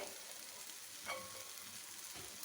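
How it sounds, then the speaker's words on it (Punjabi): Mashed boiled potatoes and masala frying in a pan on a slow flame, a soft steady sizzle with a faint stirring scrape midway, quiet and alone. "ਹੁਣ ਅਸੀਂ ਇਹਦੇ ਵਿੱਚ ਤਿੰਨ ਬੋਇਲ ਕੀਤੇ ਹੋਏ ਆਲੂ ਪਾ ਦਾਂਗੇ"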